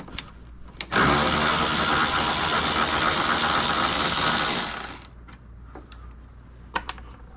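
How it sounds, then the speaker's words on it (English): A ratchet removing the 10 mm bolts of a car radiator mount lets out a loud, continuous buzzing whir for about four seconds, then stops, leaving a few light metallic clicks. "So now we're gonna disconnect the radiator mount, and these are 10 mil bolts."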